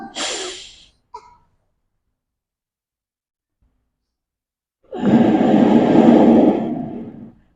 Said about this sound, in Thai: เปาลมหายใจออกมาทางปาก